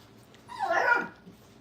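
A single short, high whimper from puppies in a crate at a kennel rises and fades over about half a second against a quiet background.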